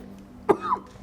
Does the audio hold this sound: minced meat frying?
no